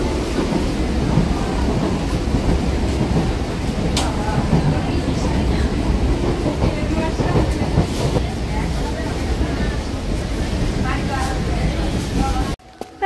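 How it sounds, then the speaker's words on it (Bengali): Heavy rain falls on a moving local train, blending with the carriage's constant rumble and clatter into a dense, loud roar. Voices can be heard indistinctly underneath before the sound cuts off abruptly at the end. "লোকালটা ছেড়ে কিছুটা এগিয়ে এলো, আর ওয়েদারের এই অবস্থা, প্রচন্ড পরিমাণে বৃষ্টি শুরু হয়েছে।"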